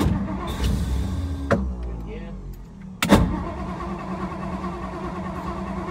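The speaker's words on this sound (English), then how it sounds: "Ready? I'm gonna crank it." A 1956 Ford Thunderbird with a rebuilt OEM fuel pump fault is cranked: sharp clicks, then a steady whirring crank close by, with a hum running underneath.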